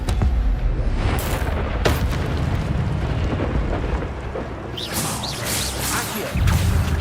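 Spells cast in the Hogwarts Legacy video game, such as Levioso and Expelliarmus, ring out as a dense run of loud booming, crashing magic blasts, with sharp bursts near the start and a brighter shimmering flourish toward the end.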